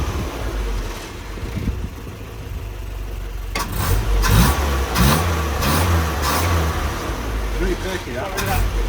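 A freshly rebuilt vehicle engine revved by pressing the accelerator pedal, idling low then rising in several loud throttle bursts up close, with a voice talking over it.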